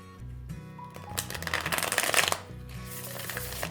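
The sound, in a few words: shuffling playing cards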